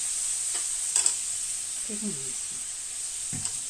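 Meat frying with soy sauce in a pan, a steady bright sizzle hiss with a few stirring scrapes and a brief low voice in the background.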